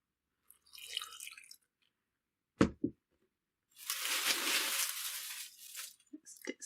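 Water poured into a solar dye jar holding silk ribbon, a broad splashing rush lasting about two seconds, preceded by a couple of sharp knocks and a soft rustle of handling, recorded close with no talk.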